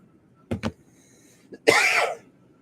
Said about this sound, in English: Sorry, guys. I don't mean to cough like that